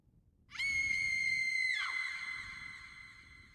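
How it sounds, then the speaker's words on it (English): A sudden, piercing scream rings out alone in an audiobook reading of a grim My Little Pony fanfic, one sustained high shriek that breaks and fades. "A sudden scream caught Flash off guard"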